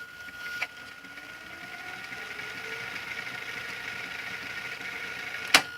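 A Hitachi VT-FX695A VCR tape mechanism fast forwarding gives a steady whirring drone with a faint high whine, set off by a single click near the start and a sharp click at the end.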